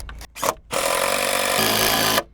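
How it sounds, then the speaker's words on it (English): A power drill drives a 3-inch structural screw into an LVL beam for floor trusses: a couple of short bursts, then one long steady whine up close that pitches down near the end before stopping. "the method we like to use is just a structural screw"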